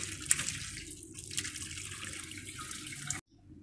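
Running water washing fresh chenna, curdled with lemon, while making rasgulla in a home kitchen: a steady tap-like splash and trickle, close and fairly quiet, with no talk, cutting off abruptly near the end.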